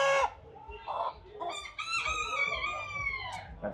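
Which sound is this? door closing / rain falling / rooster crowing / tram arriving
rooster crowing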